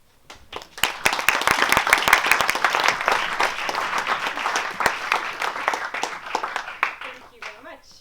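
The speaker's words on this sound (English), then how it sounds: "So big applause." Applause from a TEDx audience welcoming a speaker to the stage, dense overlapping claps swelling quickly and holding steady before tapering off, with a few voices near the end.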